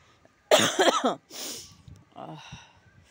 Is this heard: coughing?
yes